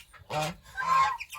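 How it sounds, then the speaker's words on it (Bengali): Two lesser whistling ducks kept in an enclosure on a duck farm give two short, close, reedy calls separated by a brief pause. "আর বালি হাঁস দুইটাকে এইখানে রেখে দিলাম"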